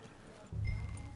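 A horse in Red Dead Redemption 2 gives a short burst of hoof clopping that begins abruptly midway, soft and low at modest volume.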